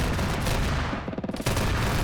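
A ZU-23 anti-aircraft gun firing in a military video game: rapid, heavy bursts of autocannon fire over a loud battle din, with a short stuttering series of separate shots in the middle.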